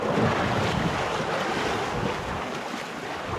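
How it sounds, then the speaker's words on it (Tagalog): Continuous roaring surf and rushing wind, loud and unbroken, with heavy wind buffeting against the microphone. "Ang lalaki ho ng alon ngayon."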